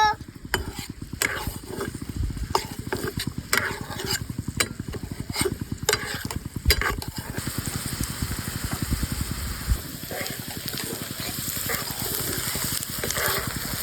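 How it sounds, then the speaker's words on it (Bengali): Onion fritters made with chopped red onion, turmeric and salt fry slowly in a pan, giving a dense, steady sizzle broken by repeated sharp clanks and scrapes of a utensil, close and fairly loud throughout with no talking. "আস্তে ভাজতে থাকবো।"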